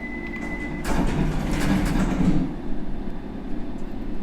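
London Underground Circle line train in the World of Subways video game, a rumbling carriage run with a brief high tone early on, then a louder swell of rolling wheel and motor noise that settles into a lighter rattle.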